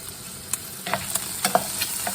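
Pancetta sizzles in a hot pan for carbonara, a steady close fry broken by sharp crackles and spits, with a few stirring scrapes through the middle and end.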